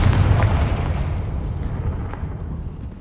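A Confringo fire-blast spell explodes in Hogwarts Legacy on PS5, a loud booming blast with a rumbling low tail that slowly fades, with no talking over it.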